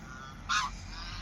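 A swan on a farm gives one brief honk, faint and a little distant, rising from a quiet rustling background with no voices.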